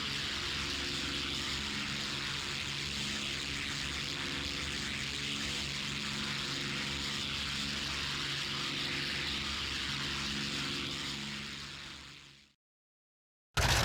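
Engines of a Bristol Blenheim twin-engined light bomber drone continuously with a loud, steady propeller roar and a low throbbing hum, then cut off abruptly near the end.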